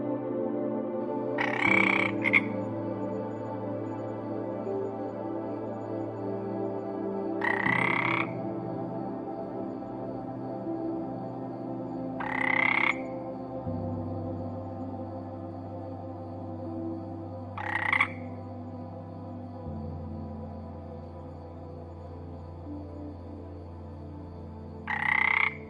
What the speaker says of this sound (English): Who spends its time near ponds and makes a ribbit sound?